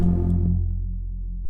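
A low, buzzy synth tone in Serum drones while a low-pass filter cutoff sweeps down, its upper harmonics fading away, leaving a dull, muffled bass hum that ends abruptly.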